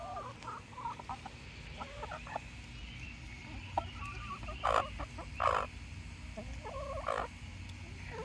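Chickens in a backyard chicken run cluck and gobble close by, with repeated short calls and bursts of louder squawks over a low background hum.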